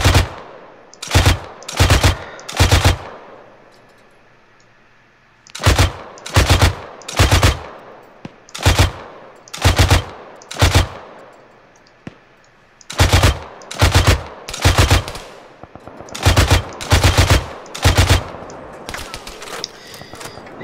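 Video game machine gun fired from a vehicle gunner seat in Operation Last Horizon, loud close bursts of rapid gunfire in repeated clusters separated by short pauses.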